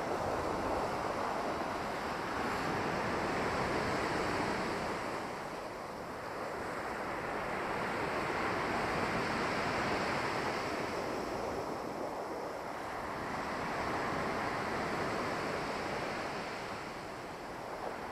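Sea waves wash onto Massandra beach in Yalta, Crimea, in a steady broadband surf roar that swells and eases in slow cycles, with some wind noise on the microphone and no voices.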